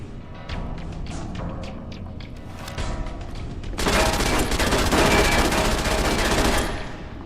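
Automated turrets fire in Fallout New Vegas, first in scattered rapid shots and then in a dense, loud, sustained burst of gunfire that cuts off abruptly.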